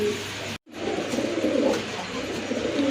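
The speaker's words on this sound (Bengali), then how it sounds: "এটা হচ্ছে সিলভার কালার ভিতরে এক জোড়া লাহোরি কবুতর, হিউজ সাইজের কবুতর।" A pair of huge silver-coloured Lahori pigeons coo close by, with soft, repeated throaty calls broken by a brief silent gap.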